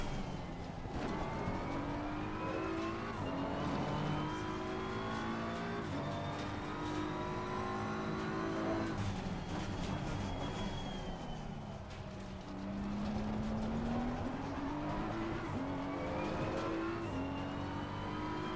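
A BMW car drives and accelerates hard, its engine note climbing steadily in pitch, dropping back at each gear change and climbing again, loud and continuous throughout.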